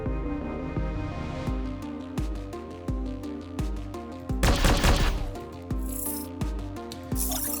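Gunfire aimed at a Scorpion unit in the game Mainframe Defenders comes as sharp, regularly spaced shots over a layered musical score, with a louder burst of noise partway through.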